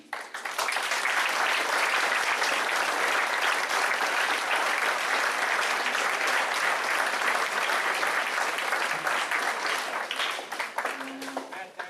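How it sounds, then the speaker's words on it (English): Audience at a Boy Scout Eagle Court of Honor giving sustained applause, a dense, even wash of many hands clapping for nearly twelve seconds before fading slightly at the end. "Please join me in one more time in applauding Jeffrey, George, Michael, and John in recogn"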